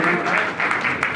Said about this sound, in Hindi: तालियों से स्वागत साथियों,